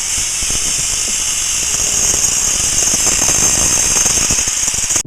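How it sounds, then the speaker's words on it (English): A metal downpipe for a homemade electric scooter frame is cut with a steady, loud, high-pitched grinding whine that holds continuously up close and stops abruptly at the end. "Time to cut the last downpipe."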